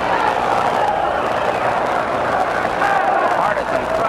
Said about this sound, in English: Partisan crowd here in upstate New York trying to root Basilio home